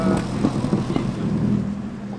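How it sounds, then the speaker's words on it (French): Lancia Stratos rally car engine running nearby at a moderate level, a rough low burble with a few uneven pulses and light traffic-like background, no talk. "là on a une Lancia Stratos, une vraie voiture de rallye"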